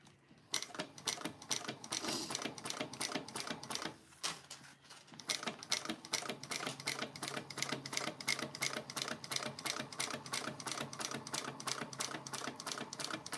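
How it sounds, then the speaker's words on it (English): A sewing machine top stitches around an accordion wallet in a rapid, even mechanical clatter; a brief pause near the start gives way to steady continuous stitching, close and loud, with no talk. "right now, I'm just top stitching around the accordion wallet"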